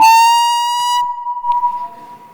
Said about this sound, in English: That was the siren and the sound.